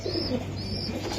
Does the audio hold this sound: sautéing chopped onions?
no